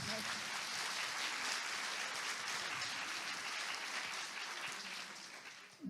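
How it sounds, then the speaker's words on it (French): An audience applauding the technicians at an event in Évian, a fairly soft, continuous patter of clapping that holds steady, then tapers near the end amid some voices. "il faut penser aussi à applaudir les techniciens parce qu'ils se démènent"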